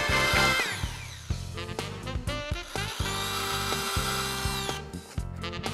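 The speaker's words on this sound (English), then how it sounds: "Countersink all wood screw holes on all 3 pieces to a depth of 1/2 inch." A power drill countersinks wood screw holes, sounding as repeated bursts of high whining motor tone that rise and fall, with short gaps between runs and grinding bite into the wood.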